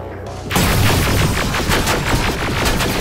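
Loud sustained gunfire in the video game Terminator: Resistance, erupting suddenly into a dense, rapid volley of automatic shots and booms that continues throughout.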